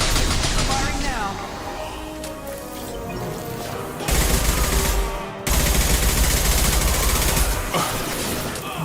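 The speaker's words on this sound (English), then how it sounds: "Стрельба тут классная" Rapid automatic gunfire from the Mass Effect 2 video game rattles in long loud bursts over a dense battle din, with brief pauses between volleys and no talk.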